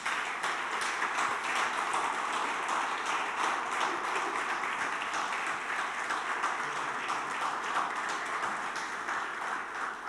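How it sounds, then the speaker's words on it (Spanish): A church congregation applauds steadily at a Spanish-language worship service, a dense, even wash of clapping that holds for about ten seconds at moderate, somewhat distant level with no talk over it. "¿Por qué no le das tu mejor aplauso?"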